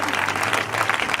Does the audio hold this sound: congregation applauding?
yes